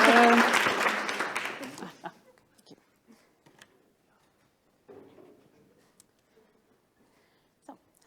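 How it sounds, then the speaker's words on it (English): Audience applause for a speaker at a science slam, dense clapping filling the first two seconds and quickly fading out, leaving only faint room noise and scattered small knocks. "Give applause to Keerthi."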